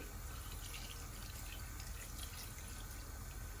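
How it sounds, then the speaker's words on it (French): Water poured into a pot to cover prunes for a tagine-style dish, a steady, faint rushing flow without pause. "Et ensuite, on va couvrir avec de l'eau."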